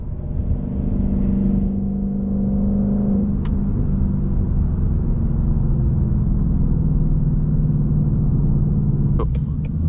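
A 2022 Mustang GT driving on backroads, its engine a loud, steady low rumble heard from inside the car that eases slightly in pitch, with a brief click near the end.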